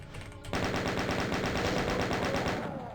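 Chaingunner enemies firing their chainguns in the Doom game, a rapid, steady burst of rattling automatic gunfire that starts abruptly and hammers on without pause at close range.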